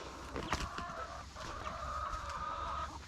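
A rooster clucks and calls nearby, a drawn-out throaty vocalization over outdoor background noise, with a few short sharp sounds early on.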